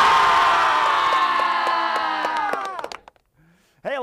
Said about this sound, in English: a lot of screaming out there going on because we are so amped up